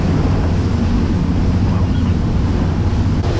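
A boat powered by four Yamaha 300 outboard engines runs at around 3,000 RPM and 35 mph, giving a loud, continuous roar of engines, rushing water and wind, steady throughout with no pauses.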